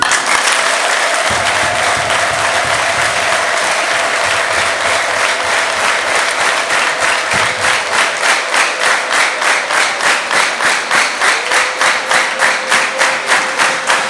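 A congregation at a church service applauds loudly and continuously, the clapping settling into a steady rhythmic beat toward the end.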